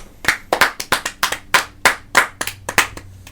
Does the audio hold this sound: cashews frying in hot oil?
no